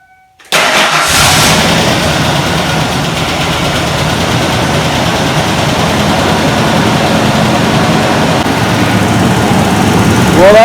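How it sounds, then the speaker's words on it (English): A 1994 Ford Ranger engine starts abruptly after a brief silence, then holds a loud, steady idle, close and uninterrupted, for the rest of the stretch. "Well, that motor most certainly idles a lot smoother."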